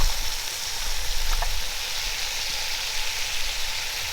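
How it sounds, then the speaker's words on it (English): Three cans of Rotel canned tomatoes sizzling and frying steadily in a pot over an open fire, a constant hissing crackle with a brief clink of stirring near the start. "Next up, we're adding our 3 cans of Rotel tomatoes"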